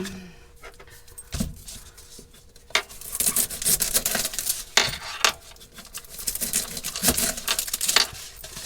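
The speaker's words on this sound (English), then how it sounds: "So I'm going to start chopping up a little bit of onion and a bit of garlic." Irregular knife taps on a cutting board as onion and garlic are chopped, sharp clicks scattered over a faint background, no speech.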